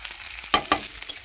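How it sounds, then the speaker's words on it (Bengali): Chopped onion and green chili hit hot oil in a kadai, crackling into a soft sizzle broken by a few sharp, loud bursts and clicks as they are stirred. "এই যে পেঁয়াজ কাঁচা লঙ্কা ফোড়নে দিয়ে দেবো।"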